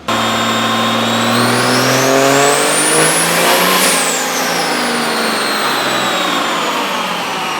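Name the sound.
750 hp 5th gen Cummins truck engine revving on dyno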